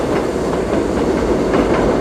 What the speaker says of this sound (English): This is a subway, even though it's above ground.